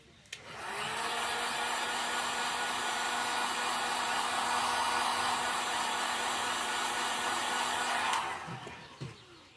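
Handheld heat tool blowing hot air to heat-set paint, a steady whooshing roar that switches on, holds constant for about eight seconds, then cuts off, close and moderately loud.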